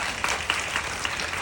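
Applause from an audience at a Korean film screening and GV talk, a dense, steady patter of many hands clapping at moderate volume with a few sharper claps poking through.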